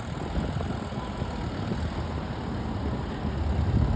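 A tractor engine at a tractor pull holds a steady, moderately distant drone with low rumble and no pauses or voices.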